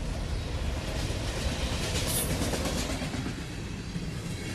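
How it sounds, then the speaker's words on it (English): A train rolls through Delphi, Indiana, a steady, continuous rumble with rail clatter heard from outdoors, with no talking. "Harrison, what you're hearing is a train passing through Delphi, Indiana"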